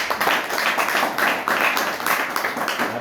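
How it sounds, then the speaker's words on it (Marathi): Audience at a camp gathering claps loudly for three invited guests, a dense, steady burst of many hands lasting throughout, close and energetic. "या तिघांसाठी एकदा जोरात टाळ्या वाजवा."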